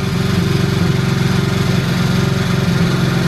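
A quad ATV engine runs steadily during its first run-in, with old oil collected in the exhaust; a loud, close, continuous idling drone with a regular pulsing beat, and no talking.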